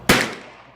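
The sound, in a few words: gunshot from Savage Model 99F rifle in .308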